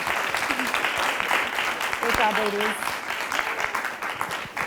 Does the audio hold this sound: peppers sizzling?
no